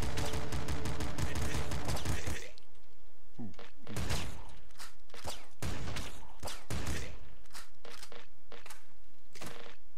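Slugger firing in the top-down shooter Nuclear Throne: after a stretch of rapid mechanical rattling, a series of loud, heavy single blasts spaced slowly apart, punchy and close, mixed with other game effects and occasional talk.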